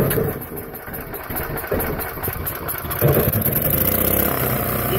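A Champion 3000-watt gasoline generator pulled into life and settling into a steady, loud mid-pitched engine drone, the running note swelling slightly toward the end.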